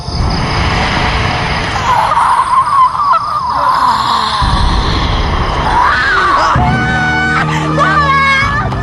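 A woman screams in fear during a film scene, a loud, sustained, wavering shriek over a dense, noisy soundtrack, followed by a tonal musical sting.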